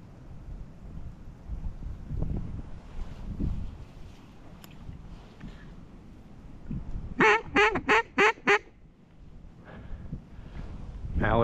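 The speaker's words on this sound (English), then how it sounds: "Mallard going right into Chase and Drew" Mallard duck quacking during a public-land duck hunt in Texas: a burst of about five loud, evenly spaced quacks near the middle, heard against wind noise and rustling.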